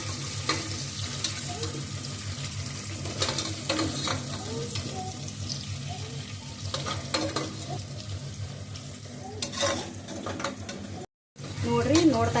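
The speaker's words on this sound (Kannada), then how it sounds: "ಕ್ಯಾರೆಟ್ ಹಾಕೊಂತ ಇದ್ದೀನಿ. ಸ್ವಲ್ಪ ಫ್ರೈ ಆಗಬೇಕು ಇದನ್ನು." Carrots fry in a pan with a continuous sizzle, while a spatula scrapes and clatters against the metal in uneven bursts; the sound drops out briefly near the end.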